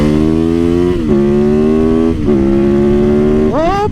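A 450 motorcycle engine revs loud and close, its pitch holding steady, then dipping twice before climbing sharply again at the end.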